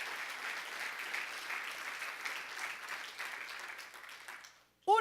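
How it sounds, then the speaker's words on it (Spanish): A church congregation at an evangelical worship service applauds in praise to God, a sustained, fairly distant clapping that fades toward the end before a brief loud sound cuts in. "Dele fuerte ese aplauso a Dios."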